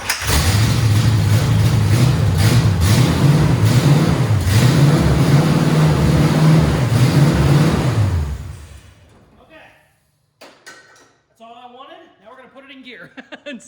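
Rat rod International truck engine running on starting fluid, a loud steady rumbling drone with slight rev swells that cuts off after about eight seconds, followed by quiet and scattered speech.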